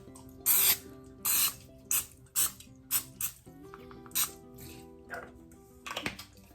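Cooking spray hisses onto a 9x4 loaf pan being greased for gluten-free bread, in a series of short, sharp bursts close to the mic, about ten quick sprays with quiet pauses between.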